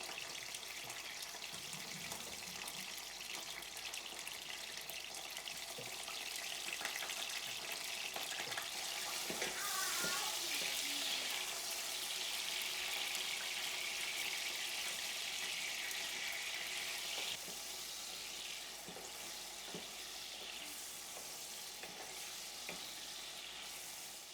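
Tap water runs and splashes as tomatoes are rinsed, a hissing stream that swells in the middle then eases, with occasional kitchen clatter.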